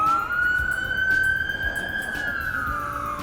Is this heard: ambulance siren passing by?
yes